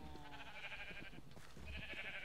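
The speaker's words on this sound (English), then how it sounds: "So, we are going to start breeding these cows." Cows in Minecraft mooing and bleating in a cluster of overlapping calls, with soft footsteps or shuffling beneath; fairly close and quiet overall, no talking.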